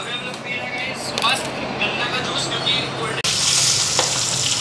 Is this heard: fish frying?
yes